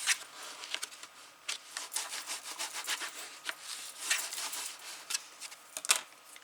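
A bone folder rubbed firmly along the crease of a paper pop-up butterfly page, giving a steady run of dry scraping strokes with short bursts and pauses, close and fairly quiet, with no talking.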